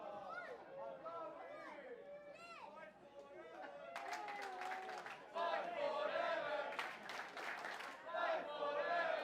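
A pro wrestling crowd at a live venue cheers, shouts and claps, the noise swelling into loud applause partway through while a commentator's voice carries above it.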